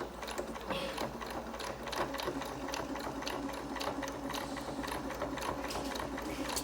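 Sewing machine running steadily as a ribbon-tied face mask is sewn closed, a fast, even mechanical rattle of needle strokes throughout, fairly quiet and close.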